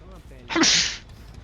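A single short, loud human sneeze bursts out near the middle and fades within about half a second, recorded close by with voices just before it.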